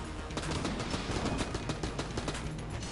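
Rapid, dense AK assault rifle fire in a video game, a continuous burst of closely spaced loud shots for several seconds, heard alone without voices.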